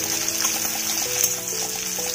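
Chopped onion fries in a pan with garlic, giving a steady, even sizzle that stays close and fairly loud with no break and no talking.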